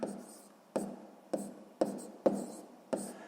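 Handwritten math on paper for a sixth-grade exercise, a quiet scratching of pen strokes broken by six sharp taps at regular intervals, close and faint.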